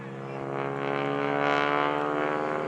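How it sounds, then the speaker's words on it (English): A propeller airplane engine drones steadily with a rasping buzz, swelling slightly as it passes nearby at an airshow, no voices. "that sound you hear, the propeller rapping"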